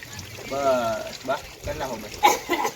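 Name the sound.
water running from a hose while planting a tree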